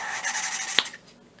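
A suction cup tool spins an engine valve back and forth against its seat on a cylinder head, making quick gritty scraping strokes in a rapid rhythm, close and moderately loud, before it fades out.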